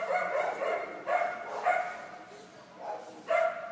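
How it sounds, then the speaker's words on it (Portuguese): A dog barks repeatedly in the background, short yapping barks in uneven bursts that recur throughout, while a person talks. "Eu sei que o cachorro está latindo e que atrapalha o áudio"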